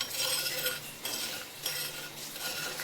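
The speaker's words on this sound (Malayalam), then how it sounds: "ഇതാ നമുക്ക് ഒന്ന് ഇളക്കി കൊടുക്കാം" Kerala-style natholi fish curry boiling in a pot and being stirred, soft scraping and clinking strokes repeating about every half second over a steady bubbling simmer, fairly quiet and without talk.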